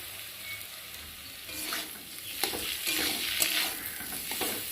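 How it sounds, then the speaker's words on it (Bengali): A spice paste of turmeric, ginger, cumin and chopped tomato fries with onions in a pan, a soft, steady sizzle broken by sharper crackles and scraping stirs from a utensil. "মশলাটা ভালোভাবে কষিয়ে নেবে"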